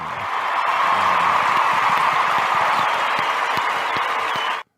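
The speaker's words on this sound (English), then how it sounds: "Let me give you the applause" A host plays a canned applause sound effect on a sports talk show: steady, full crowd clapping that holds at an even level for about four and a half seconds, then cuts off abruptly.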